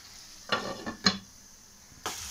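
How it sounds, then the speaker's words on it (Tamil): Chopped tomatoes sauté in a covered pan for sweet corn pulao. A quiet sizzle runs underneath, broken by a few short bursts of stirring or lid movement. "தக்காளி நல்லா வதங்கி வரட்டும், கொஞ்சம் மூடி போட்டு வதங்க விட்டுக்கலாம்"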